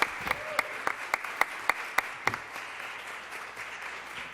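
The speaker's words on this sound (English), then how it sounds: "I'm glad that you are clapping before I speak." A conference audience gives a brief burst of applause, with scattered sharp claps that thin out and fade over a few seconds in a large room.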